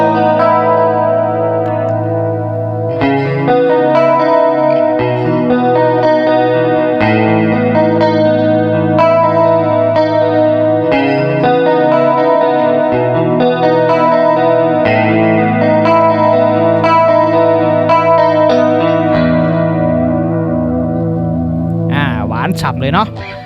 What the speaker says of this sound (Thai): เสียงต่อมาก็จะเป็นเสียงคอรัสนะครับ